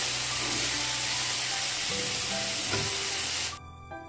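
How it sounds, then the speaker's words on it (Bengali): Okra fries in mustard oil in a wok over a medium-low flame, giving a dense, continuous sizzle with occasional crackles and stirring clinks, close and steady before abruptly dropping to a quieter hiss near the end. "ঢেঁড়সগুলো হালকাভাবে ভেজে নেব মিডিয়াম টু লো ফ্লেমে রেখে।"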